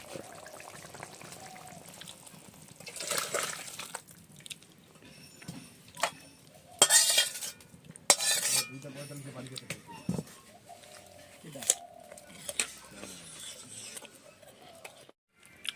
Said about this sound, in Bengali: নাড়াচাড়া করে ঝোলটা নামিয়ে নেব